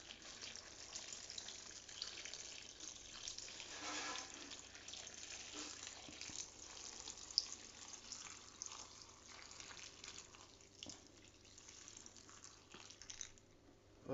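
Cold water pours softly and steadily from a kettle, a faint trickling splash that continues for several seconds with light drips, fairly quiet and without any talking.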